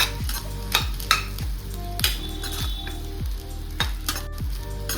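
Korean fried rice with egg sizzling in a pan as soy sauce is added, a spatula stirring and scraping it in regular strokes, close up and loud over constant frying hiss.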